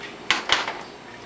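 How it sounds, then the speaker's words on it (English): A lid is set onto a cooking pot of gravy for spaghetti, giving two quick, close clinks about a quarter second apart, then a faint rattle that settles to quiet. "So I'll put the top on."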